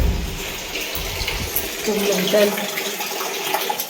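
Bath water runs steadily from a tap into a bucket or tub, a continuous close splashing rush with brief speech over it.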